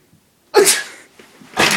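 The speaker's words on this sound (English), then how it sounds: "I gotta sneeze." A man lets out one loud, explosive sneeze close to the microphone, followed by a brief pause and a second sharp burst.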